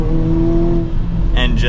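A 2023 Hyundai Kona N downshifts and its engine revs up, a close steady drone that rises, with a voice speaking over it briefly near the end.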